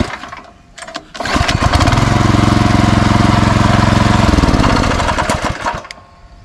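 A power weeder's small engine catches after a couple of kick attempts, then runs loud and steady with a rapid chugging pulse before easing off near the end, heard close up with no talk over it.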